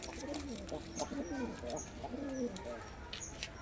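Kalshira pigeons coo in soft, low, rolling calls that repeat several times, close by, amid a busy background with faint chirps.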